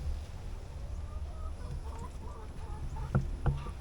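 Chickens in a backyard chicken run beside a banana patch, giving faint intermittent clucks over a steady low outdoor rumble, with two sharper, louder calls near the end.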